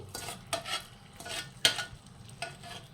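A spoon scrapes and stirs jaggery and sugar syrup in a pan for sweet pongal, in several distinct scraping strokes with faint sizzling between them, close and fairly quiet, with no talking.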